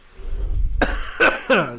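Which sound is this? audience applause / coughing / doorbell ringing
coughing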